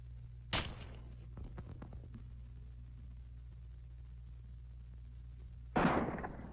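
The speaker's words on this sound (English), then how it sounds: "we'll shoot from about 10 feet to simulate an accident" Gunshot fired from about ten feet at a potato set on a post in a 1970s firearm safety demonstration: two sharp loud reports several seconds apart, the first followed by brief rattling debris, over steady low background hum.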